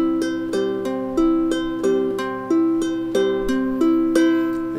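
Ukulele picked in a repeating pinching arpeggio, each plucked pattern ringing out in a steady rhythm, clear and close with no voice.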